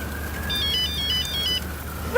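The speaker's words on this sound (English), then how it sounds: "it sounded like a mobile phone" A mobile phone ringtone plays a short repeating electronic melody of bright tones, moderately loud over a humming indoor background in a police drama scene, followed by a brief rising chirp at the end.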